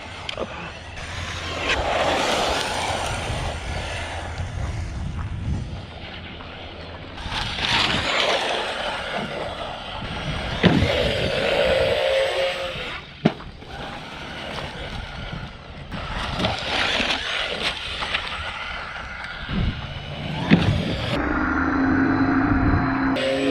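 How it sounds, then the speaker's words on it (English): An ARRMA Mojave 4s RC desert truck is driven hard over rough terrain, bursts of motor whine and gravelly thrashing coming and going in surges, with wind buffeting the microphone and a few hard impacts along the way. "this truck's taking a hammering"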